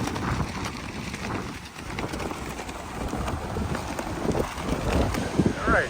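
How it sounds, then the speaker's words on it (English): Strong wind buffets the microphone at the beach near shade tents, a loud roaring, gusting rush that rises and falls throughout, with voices faintly present underneath. "Now the wind is really raging."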